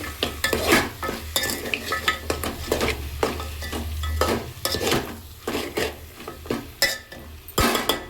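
A spoon stirs and scrapes a curry of trotters in a hot pan, with repeated rhythmic scraping strokes over a steady sizzle and occasional metallic clinks.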